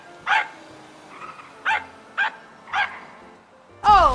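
A pug barks in the GTA Online video game, giving five short, sharp yaps spaced about half a second apart. A louder, whining bark ends the sequence.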